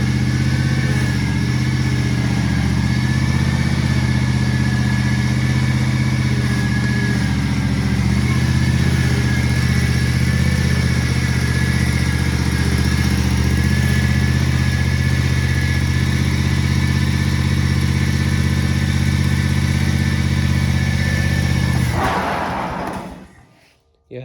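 A zero-turn lawnmower engine runs with the PTO engaged, a loud, steady, close droning roar that holds for over twenty seconds before cutting off abruptly.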